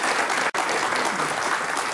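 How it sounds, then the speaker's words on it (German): Studio audience applause on a 1982 German television talk show, loud dense clapping that breaks off for an instant, then resumes at full strength and holds steady. "Nichts Schlimmeres, als einem Kollegen den Applaus zu klauen."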